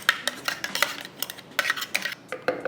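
A metal spoon stirs soya chaap in a creamy marinade inside a bowl, giving a run of close, irregular clinks and scrapes against the dish, loud and alone with no talk.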